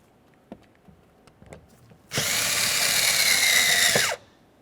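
A power driver with a 7mm socket runs mounting screws into a 2001-2005 Ford Explorer Sport Trac door during lock cylinder replacement, giving one steady, loud two-second whir after a few light clicks and taps.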